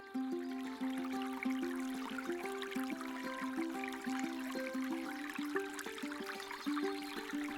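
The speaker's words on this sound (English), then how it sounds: "The walk begins by following the road east and crossing a small trickling river." A small trickling river crossed at the start of a hill walk in the Scottish Highlands, water burbling and dripping steadily close by in a busy, continuous babble.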